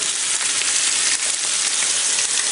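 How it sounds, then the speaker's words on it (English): Monkfish searing in a hot pan, a loud, continuous hiss of sizzling oil that stays close and steady throughout. "Add this to the pan, and what I'm going to look to do, I'm not going to fully cook it here in the pan, but I'm just going to get a good sear all the way around"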